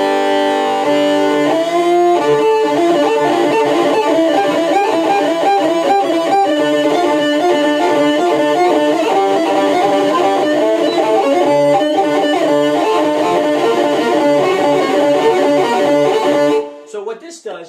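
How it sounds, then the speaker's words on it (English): A violin fitted with a Barcus Berry 3100 pickup plays through a distortion effect, producing a steady, loud, buzzy stream of sustained melodic notes that runs almost the whole time before cutting off abruptly near the end. "So what this does, this gives you distortion right here."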